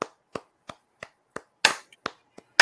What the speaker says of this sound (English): everybody clap for Tristan